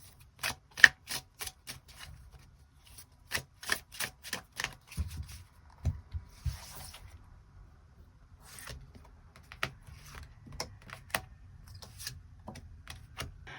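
Tarot cards are shuffled and drawn in a quiet room, with crisp rapid clusters of card flicks and snaps, then scattered single taps and slides as cards are picked and laid down.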